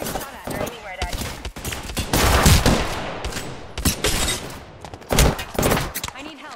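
Rapid bursts of automatic gunfire in the battle royale shooter Apex Legends, close and loud, firing in repeated volleys with brief gaps and overlapping shots from several weapons.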